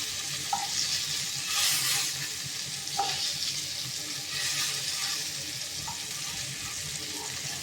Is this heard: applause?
no